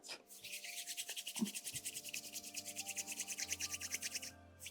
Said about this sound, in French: Je frotte entre mes mains. Je la malaxe un peu.